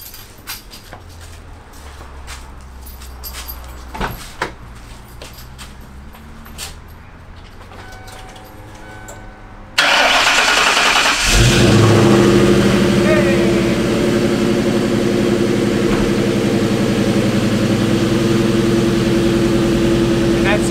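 A 1996 Ford Mustang GT engine cranks and fires up about halfway through after a quieter stretch with people talking, then settles into a loud, steady idle and rev that dominates the rest.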